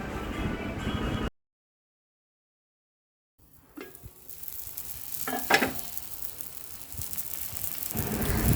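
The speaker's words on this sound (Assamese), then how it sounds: "ঢাকনিখন দি জুইটো কমাই আৰু কিছু সময় মই ভাজি আছোঁ।" Steady sizzling of curry frying in a covered pan over low heat, with a few light stirring clatters; a short silent gap interrupts it near the start.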